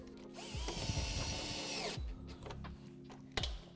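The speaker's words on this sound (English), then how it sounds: "I can now go ahead and reinstall my 7mm screw." A power drill whirs in two short bursts, driving a 7mm screw into a C8 Corvette fender while fitting a composite rock guard, close and loud, with small clicks between runs.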